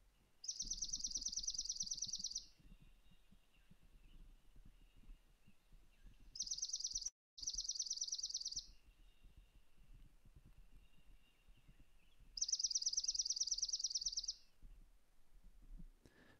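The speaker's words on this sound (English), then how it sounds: "Let's give a listen to the swamp sparrow song." Swamp sparrow song heard from a marsh: three flat, rapid trills, each holding one pitch for about two seconds and separated by pauses, clear over a quiet background.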